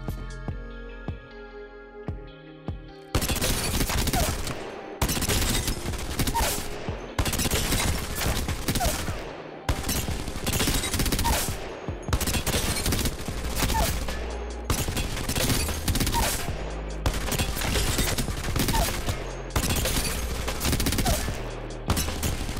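SMG gunfire in Apex Legends Flowstate aim training: loud, rapid full-auto bursts fire one after another with short gaps between them, following a brief quieter game tone at the start.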